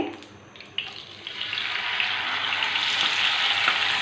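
Mutton pasanday slices sizzle in hot oil on a flat tawa, starting with a sharp crackle and swelling into a loud, continuous frying hiss.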